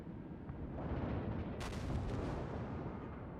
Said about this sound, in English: And look at the secondary guns shooting at him left, right and center.